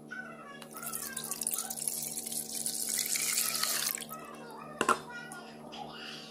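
Bika ambon batter of coconut milk, eggs, melted butter, sugar and vanilla poured into a container, a steady liquid gush lasting several seconds before tapering off, followed by a sharp knock.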